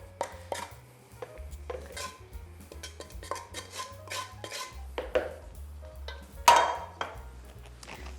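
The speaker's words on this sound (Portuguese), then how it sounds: "Vamos passar para o tacho da batedeira." Choux pastry dough for sugared carolinas scraped from a cooking pot into a stand mixer bowl, with scattered knocks and clinks of a utensil against metal over steady background music.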